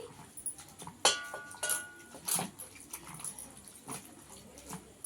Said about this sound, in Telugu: ముక్కలు మునగ నీళ్ళు పోసుకోవాలండి